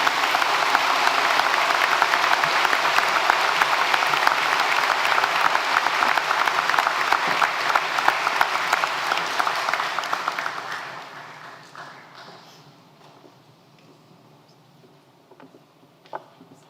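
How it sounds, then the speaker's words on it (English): A large audience at a high school graduation ceremony applauds loudly and steadily for about ten seconds, then the clapping thins and dies away to scattered claps and room quiet. "join me in a huge round of applause for all of our outstanding parents, faculty, staff, and administration"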